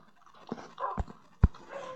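Dog panting and whimpering from a Minecraft video game, a few short breathy puffs and soft thuds in quick succession, fairly close and clear.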